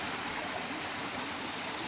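Coal Creek flows past old coal mining debris hills near Seattle, a steady, broadband rush of running water heard close and unbroken, with no voices over it.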